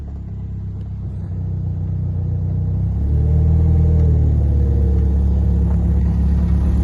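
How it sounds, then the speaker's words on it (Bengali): A car engine revs during a driving lesson, a loud close rumble that climbs in pitch and intensity as the accelerator is pressed, then holds steady at a higher drone. "দুই নম্বর গিয়ার ফালান দুই চালু টান দেন অ্যাক্সেলেটার দেন চালু"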